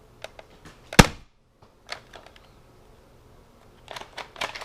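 A modified Nerf Strong Arm revolver blaster fires its last shot, one sharp close crack followed by scattered small plastic clicks and handling noises.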